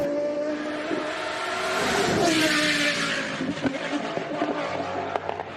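A track-only Solus GT race car roars up a hill climb at Goodwood, its loud engine howl rising and falling as it passes close by, followed by clattering crowd and track noise as the sound fades.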